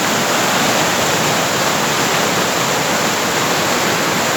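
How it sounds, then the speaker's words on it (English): A powerful river rushes close by in Ballyshannon, County Donegal, Ireland, a constant loud wall of churning water with no break or other sound. "there's some power in that river"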